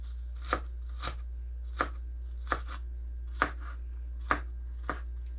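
A knife finely dices garden onion on a cutting board, about eight sharp, evenly spaced chops ringing out close and clear over a steady low hum, with no talking.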